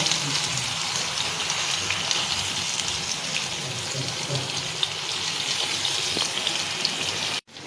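Marinated eggplant pieces frying in a pan with little oil produce a steady, hissing sizzle close by, even and unbroken until an abrupt cut at the end, with no talking.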